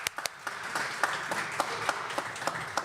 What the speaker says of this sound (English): please, give a round of applause for Clement George